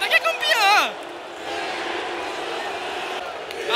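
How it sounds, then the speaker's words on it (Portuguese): Fluminense supporters chant at the Maracanã stadium during a Fla-Flu derby, a distant, sustained roar of crowd voices that follows a brief close-up voice at the start and carries on steadily throughout. "aí a torcida do Flu já canta, que é campeão"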